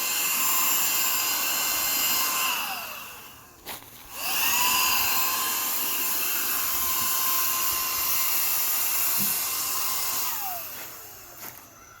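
A Mellif cordless 20V paint sprayer runs in bursts with a loud, close, high-pitched whining buzz. It cuts off briefly twice and starts up again.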